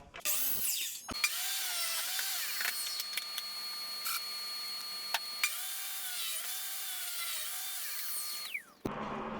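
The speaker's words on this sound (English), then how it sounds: "I'm going to put it on the saw. I'm going to cut my board off." A power saw cuts a wooden board while building an outdoor table, a loud, steady whine with shifting tones that runs for about eight seconds before cutting off.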